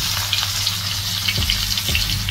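Green chillies, onion and tomato frying in oil already used for frying eggs, a loud, steady close sizzle with a couple of soft stirring knocks.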